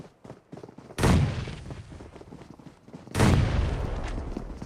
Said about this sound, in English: A couple of nades being thrown up, probably just to get Sky out of the way.